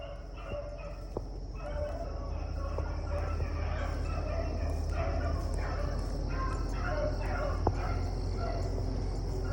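Buster, a rabbit-hunting dog, bays in repeated excited yelps and barks among other dogs outdoors, with some voices talking in the background.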